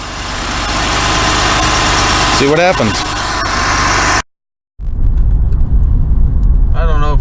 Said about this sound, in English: I think it's time we take it for a little test drive.